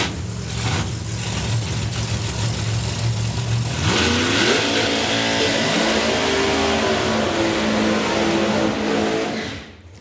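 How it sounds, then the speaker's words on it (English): A drag car does a burnout at a hot drag racing event, its engine revving hard in a loud rising roar before settling into a steady howl that cuts off near the end, with no talk. "burnouts are pretty smoky and lively"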